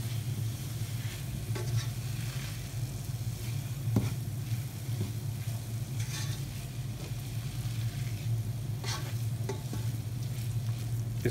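Fried mixed vegetables are stirred in a pan: a steady low sizzle with occasional scraping clicks and clinks of the spoon against the pan, continuous and close, with no talk.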